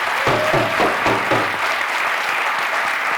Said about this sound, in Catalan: un aplaudiment per l'amor de Déu!